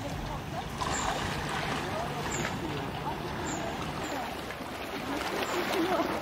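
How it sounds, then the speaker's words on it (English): Sea water lapping at a Mallorca beach, a steady close wash of small waves and splashes with wind, while people talk faintly throughout. "where you want to just hear the water like this. It sounds like so peaceful here."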